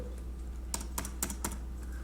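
Several crisp computer keyboard keystrokes, including the F4 key, pressed in quick succession during a Korean Excel lesson, sounding close and fairly loud against faint background hiss.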